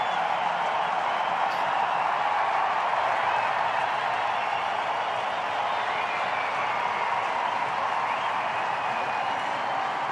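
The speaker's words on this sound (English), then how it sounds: "Huge applause from the Indian fans all around the ground here at the Adelaide Oval" Indian cricket fans applaud all around the Adelaide Oval during a one-day international, a continuous, even roar of distant crowd clapping and cheering that fills the whole stretch.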